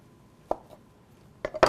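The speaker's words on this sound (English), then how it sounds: "You just want to take the potatoes when they're cool and cut them" A knife cuts cooled boiled potatoes into slices about a quarter inch thick on a board, with a lone close tap followed by a quick cluster of crisp strikes and no talking.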